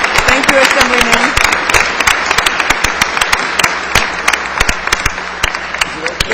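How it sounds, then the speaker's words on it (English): Loud, dense applause fills an assembly chamber as a crowd claps steadily to honor a student swimmer, with sharp individual claps standing out near the microphone and a few voices faintly beneath. "everybody give a big round of applause"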